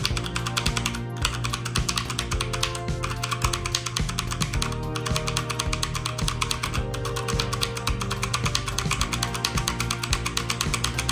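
Rapid, continuous typing on a HyperX Alloy Origins mechanical keyboard with linear red switches, with fairly soft, even keystrokes and no talking.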